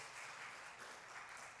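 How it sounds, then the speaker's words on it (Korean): A church congregation gives a couple a short, soft round of applause, a faint, even wash of many hands clapping together. "우리 격려 박수 한번 할까요?"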